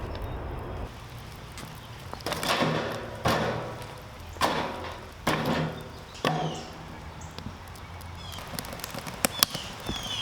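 Stainless steel top piece lifted off a Bond Stove smokeless fire pit outdoors, giving several hollow metallic clanks and thuds at uneven intervals, loud and close, followed by lighter scraping clicks.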